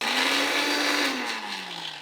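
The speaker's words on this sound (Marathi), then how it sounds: "मिक्सरच्या भांड्यात घेऊया मिरची लसूण कोथिंबीर जिरं आणि ओवा पाणी घालायचं नाही जाडसर वाटायचं" A kitchen mixer grinder coarsely grinds green chillies, garlic, coriander, cumin and ajwain without water, a loud, close, steady motor whine that drops slightly in pitch near the end as the load settles.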